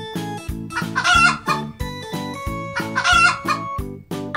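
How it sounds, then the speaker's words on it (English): Chicken clucking with a rooster crowing twice over a bouncy music bed, the calls loud and close. "chicken."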